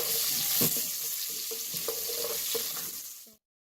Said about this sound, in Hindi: हम इसमें प्याज शामिल करेंगे और इसे थोड़ा सा गोल्डन फ्राई करते हैं